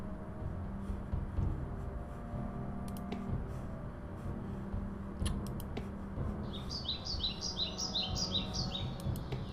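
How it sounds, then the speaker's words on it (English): Birds chirp in the video game Dungeon Siege, faint quick tweets repeating in a short rhythmic run over a low ambient game background, without talk. "At least the birds are happy and chirping,"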